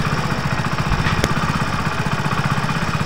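A Hero Splendor Plus BS6 motorcycle engine idles steadily nearby after a nut is tightened, with a loud, even, rapid chugging pulse and a brief click partway through.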